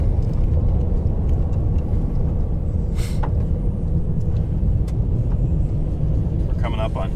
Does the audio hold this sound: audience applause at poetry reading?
no